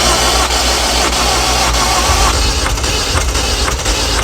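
A Ford car engine with low compression, revved in a repair shop, roaring loudly and steadily up close, then dropping into a rougher, uneven low rumble.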